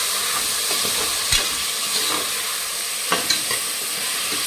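Tomatoes and onions sautéing in a pan for a soya tomato biryani, a dense, even sizzle with a few soft stirring scrapes, close and fairly loud, with no voices.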